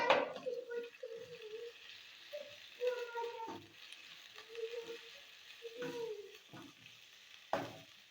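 Grated cabbage tossed and stirred in a hot pan, with soft sizzling and scraping strokes of a spatula recurring in uneven bursts, close up and without talk.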